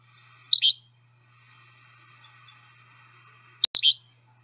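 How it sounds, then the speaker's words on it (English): Yellow-bellied flycatcher song: two brief, sharp, high calls about three seconds apart, faint against a low steady hum and a quiet background of other distant birds. "the yellow-bellied, which is the one we're talking about now, has a sort of more of a rolling song"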